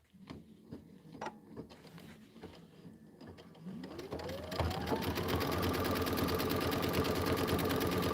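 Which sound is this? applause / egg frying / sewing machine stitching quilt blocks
sewing machine stitching quilt blocks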